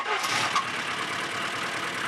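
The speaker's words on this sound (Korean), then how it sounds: "와 엔진이 걸리는구나. 막 덜덜거리는데." An old Soviet-era car's engine catches and runs with a rough, rattling idle, fairly close and steady, with no talk over it, out in a remote Pamir mountain village in Kyrgyzstan.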